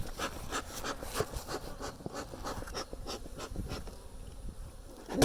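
Honeybees buzz steadily around a hive in Pilot Point, Texas, a dense close swarm drone with no voices.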